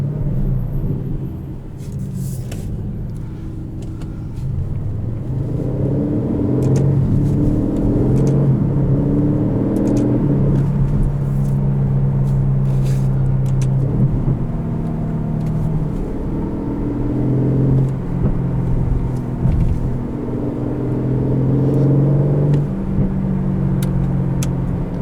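A 2020 Aston Martin DB11 V8 runs on the road, its low engine rumble and drone swelling as it accelerates, steady and close from inside the cabin, with no voices over it.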